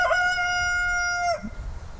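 A single loud rooster crow rings out close by, a long sustained call that cuts off abruptly, leaving faint background noise.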